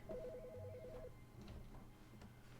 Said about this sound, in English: Is the phone ringing?